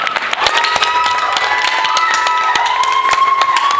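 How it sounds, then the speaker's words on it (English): Audience clapping after a Bharatanatyam arangetram, a steady round of applause over sustained tonal music or ringing tones, fairly loud and continuous. "Another round of applause for the star of this evening"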